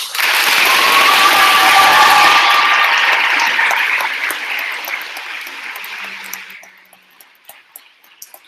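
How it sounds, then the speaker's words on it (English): Loud audience applause for the two finalist team policy teams at a NITOC 2016 debate tournament: dense sustained clapping that fades over several seconds into a few scattered claps. "give our final 2 team policy teams a round of applause"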